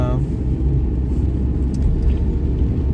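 A car is driven along a road with a steady low engine rumble and tire noise throughout, while someone talks over it from inside the vehicle.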